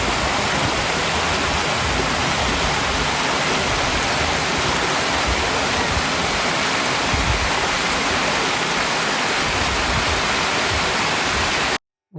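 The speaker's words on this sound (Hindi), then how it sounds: "बहुत ही एक बेहतरीन शानदार झरना दिखाई दे रहा है, ये देखिए," A large waterfall at Mandore Garden in Jodhpur roars as a steady, loud, broadband rush of falling water, continuous and close for the whole stretch, then cuts off abruptly at the end.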